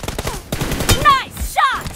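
Rapid gunshots in PUBG Mobile, a quick series of sharp cracks over about two seconds, close and loud, mixed with game effects and voice chatter.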